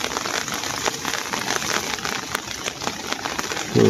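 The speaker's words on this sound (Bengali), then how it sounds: "দেখেন বৃষ্টি" Rain falls steadily during a village flood after days of downpour, a dense, even patter of drops with sharper close splashes and a louder burst at the end.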